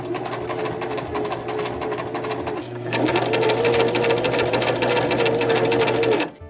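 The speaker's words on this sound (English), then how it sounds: "my only suggestion is go super slow with the zigzag stitch" A sewing machine runs a slow zigzag stitch along the waist tape of an 18th-century-style petticoat, a steady close mechanical whir with rapid regular needle ticks that briefly pauses near the middle, then resumes slightly louder until it stops.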